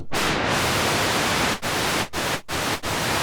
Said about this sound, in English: We'll take some white noise out of the noise generator